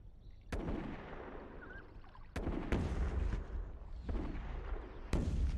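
Sharp gunshots ring out in the Rush for Berlin World War II strategy game, a few separate cracks spaced over a few seconds above a steady rumbling battle background.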